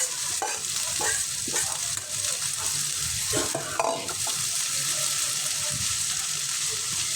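Boiled greens go into hot oil with onion and garlic, a bright, continuous sizzle close up, broken by repeated stirring scrapes and soft wet clatter as the spatula turns the leaves.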